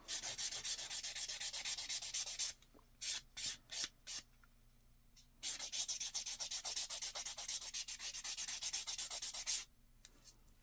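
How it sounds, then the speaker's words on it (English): A handheld buffer works scratches out of a surface with a rapid rhythmic rubbing hiss in long bursts, broken by a few short strokes and pauses, faint and close with no voices. "I'm going to take my buffer and I'm going to buff that out"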